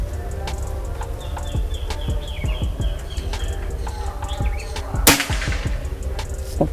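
One sharp crack from a PCP air rifle stands out near the end, heard amid outdoor background noise with scattered clicks and birdsong.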